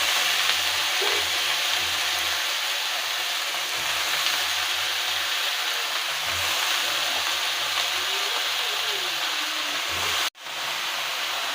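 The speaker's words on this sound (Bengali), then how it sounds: "এবার ওই তেলেই প্রথমে আলুগুলো আর আলু যে সবজিগুলো আছে সেগুলো দিয়ে দেবো" Potatoes and vegetables sizzle in leftover fish oil in a village Bengali kitchen, a steady, close frying hiss with light stirring scrapes, broken near the end by a sharp clunk and a brief drop.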